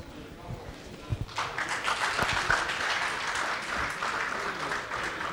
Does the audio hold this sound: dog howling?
no